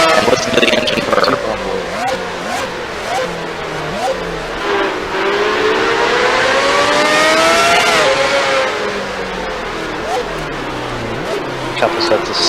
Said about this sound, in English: Ride on board with Trevor Roby for a lap here. And listen to the engine purr.